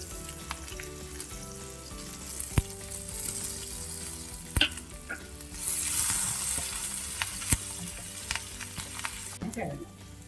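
Urad dal, ginger, green chili and curry leaves sizzle steadily in hot oil while being stirred, with sharp spoon clicks against the pan at irregular intervals and a brief louder hiss burst midway.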